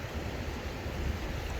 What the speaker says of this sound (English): Has that falls there and then drains down here into Pole Creek Lake